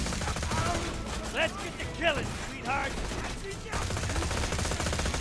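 Rapid, continuous SMG fire from the Slagagun in Borderlands 2 chatters without a break, with short swooping game effects mixed into the stream of shots.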